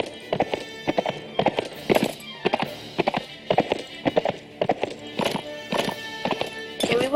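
Horse hooves clip-clopping in a steady, brisk rhythm with a neigh in Mount & Blade Warband, loud and close, with faint background game noise.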